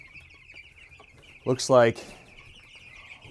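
Young backyard chickens give a short burst of clucking from a flock of about fifty birds. The clucks sound close against a faint background hum, and a voice speaks briefly.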